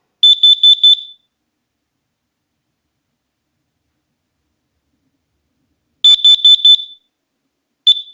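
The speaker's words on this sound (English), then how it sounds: "So that's the X-Sense Carbon Monoxide Alarm" An X-Sense carbon monoxide alarm being tested sounds a loud, close burst of four rapid shrill beeps, then silence, then another four-beep burst and a single short beep at the end.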